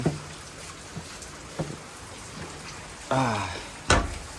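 Rain falls outdoors as a steady, soft hiss with scattered drips and knocks, joined briefly near the end by a short voice and a sharper tap.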